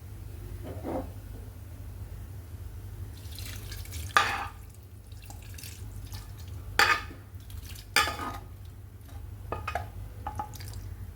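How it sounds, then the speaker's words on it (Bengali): Browned fried onions tip from a pan onto marinated beef shanks in a few separate bursts of scraping and soft splattering, close by over a low steady hum. "এবার আমি এগুলো ম্যারিনেট করা নলার মধ্যে ঢেলে দিচ্ছি"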